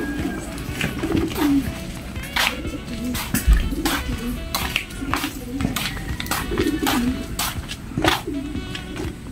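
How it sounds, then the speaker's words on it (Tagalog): Pigeons cooing in a breeding loft, several birds giving repeated low throaty coos close by over a steady background of rustling and faint chatter. "ito pala yung yung breeding loft ni Mr. Paulo Malbar"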